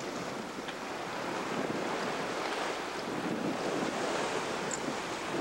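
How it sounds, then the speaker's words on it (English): Heavy Atlantic ocean waves rush and churn continuously off the side of a sailboat, mixed with strong wind buffeting the microphone, with no voices. "There's some pretty humongous seas coming in off our port beam."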